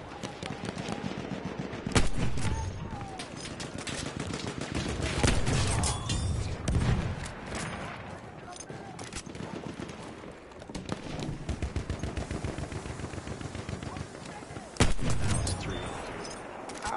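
Gunfire in the video game Battlefield 1 on PS4: loud, rapid bursts of shots and explosions crackle almost continuously, with heavy blasts standing out, as a player talks over the fighting.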